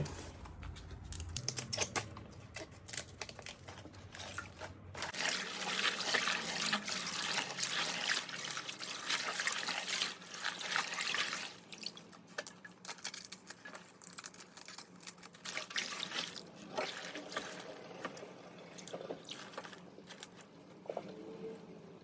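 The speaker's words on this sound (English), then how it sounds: "I'm taking my hose, I'm cleaning the bottom of the sink as well as rinsing the greens." A hose sprays water into a kitchen sink while greens are rinsed and the basin bottom is cleaned, a loud steady splashing and pattering rush that runs throughout.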